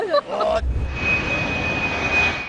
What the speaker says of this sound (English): A helicopter performs an incredible dive onto the Julius Pear hut, perched high in the breathtaking Tyrolean Alps.